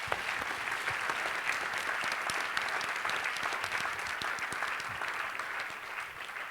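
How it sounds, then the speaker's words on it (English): An audience claps in a sustained round of applause that holds steady and fairly loud for several seconds before easing slightly at the end, with no talking over it. "Can you give them a nice little round of applause?"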